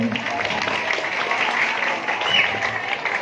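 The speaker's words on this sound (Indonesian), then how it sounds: "Ayo kasih tepuk tangan dong" Audience at an Indonesian religious sermon claps in a steady, fairly dense round of applause, heard at moderate distance with faint murmuring voices underneath.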